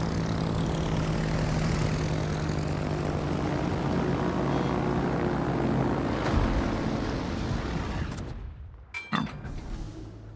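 Enemy propeller aircraft in World of Warships drone loudly and steadily overhead, engines holding a constant roar before dropping away abruptly near the end, followed by a few sharp clicks.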